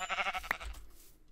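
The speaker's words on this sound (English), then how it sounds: "I need to kill a couple sheep." A single short bleat from a sheep in the Minecraft video game, close and fairly clear, over a faint background.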